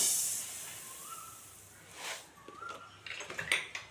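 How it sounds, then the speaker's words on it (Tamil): Coriander seeds are dry roasted in a pan. A soft hiss gives way to rustling, scraping bursts as the seeds are stirred and shifted, growing busier toward the end, with no talking. "இப்போ இந்த மல்லியை ரெண்டு டைமாக வறுத்துக்கிறேன்"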